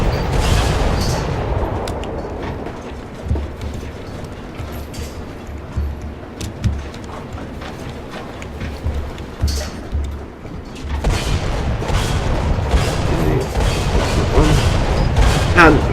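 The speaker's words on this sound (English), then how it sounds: "gunners will start shooting at the plane and actually hit it" AI gunners on a War Thunder warship shoot at an attacking plane: dense, continuous bursts of cannon and machine-gun fire with booms, loud and close, running throughout.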